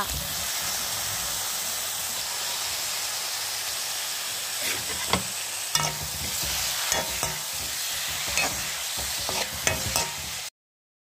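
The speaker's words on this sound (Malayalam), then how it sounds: "കണവ അതിലിട്ട് ഇളക്കുക" Squid pieces with turmeric sizzle steadily in a hot frying pan while a spoon stirs them, scraping and clattering in irregular bursts over the constant frying hiss, which cuts off abruptly at the end.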